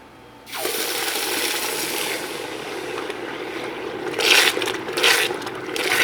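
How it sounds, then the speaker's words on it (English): A hot jewelry casting flask is plunged into a shallow bath of water for quenching, giving a sudden steady hiss and bubbling rush that holds for several seconds, with louder sputtering surges toward the end. "We're gonna quench it. This is called quenching the flask."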